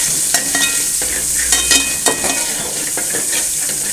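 Sliced medium-sized onion fries in hot oil with whole spices such as clove, cardamom and fennel, a loud continuous sizzle broken by repeated clinks and scrapes of a spoon stirring in the pan.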